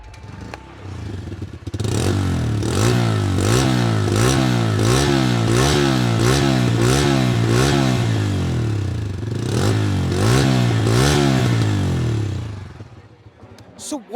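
A Bajaj Freedom 125 CNG motorcycle engine revving repeatedly in quick, rhythmic blips, loud and close, with a throaty pulsing exhaust note that settles briefly before revving again and dying away at the end.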